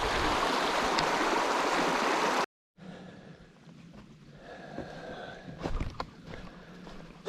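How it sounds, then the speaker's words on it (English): Gentle mountain brook flowing in the Somerset wilderness, a steady soft water rush heard up close, briefly cutting out and then continuing more quietly with small splashes. "So here's a little gentle brook"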